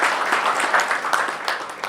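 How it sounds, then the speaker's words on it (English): Steady applause from an audience at an education panel discussion, dense clapping that holds at an even level from start to finish. "Another round of applause"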